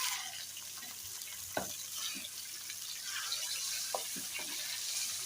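Chicken frying over medium heat with ginger, garlic and browned onions, a quiet steady sizzle with a few sharp stirring knocks and scrapes, faint and close.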